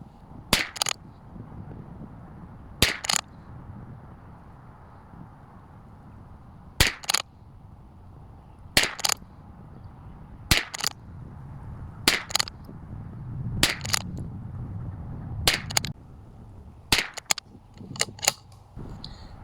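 A Bergara BMR-X rimfire rifle fires ELEY Saber budget ammunition at a range, a string of sharp, distinct shots spaced a few seconds apart with quieter handling noise between them.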